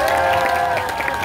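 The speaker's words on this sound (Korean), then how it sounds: "다 같이 함성하고 박수!" A live audience at a Korean stage show cheers and claps together in a brief, dense burst of applause and shouting.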